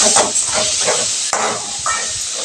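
Tomatoes sauté in a hot pan for a quail fry, giving a loud, steady sizzling hiss with faint crackles and a brief stir partway through.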